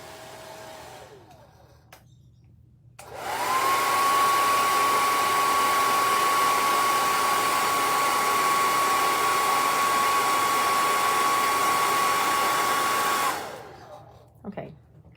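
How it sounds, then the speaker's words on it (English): A small handheld blow dryer runs on a painting canvas, switching on with a loud, steady whine that holds for about ten seconds before cutting off, with quiet room noise on either side. "I'm going to dry my canvas with a little blow dryer and paint my dramatic pumpkin."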